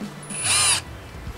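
A power drill runs at its strongest setting in one short whining burst of under half a second, boring into the wood of a shimpaku juniper bonsai, close and alone in a quiet room.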